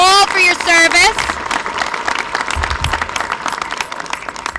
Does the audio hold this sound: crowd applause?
yes